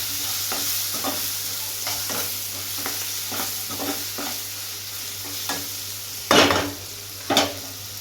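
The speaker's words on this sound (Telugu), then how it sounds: "మనకు ఇచ్చిన మిక్చర్ మసాలా నూడిల్స్లో వచ్చిన ప్యాకెట్ తీసుకొని మంచిగా మిక్స్ చేసుకోవాలి" A spoon stirs Maggi noodles with masala in a pan, giving repeated scraping strokes at a steady rhythm over a faint sizzle, with a couple of louder clanks near the end.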